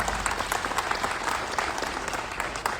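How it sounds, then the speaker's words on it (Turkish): Audience at an İYİ Party candidacy announcement in Ortaca applauding a lawyer invited to the microphone, a dense, continuous round of clapping from a crowd throughout. "Sayın Avukat Recep Güneş'i alkışlarla mikrofona davet ediyoruz"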